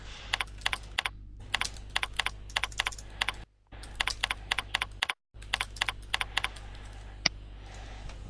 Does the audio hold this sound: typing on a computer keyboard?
yes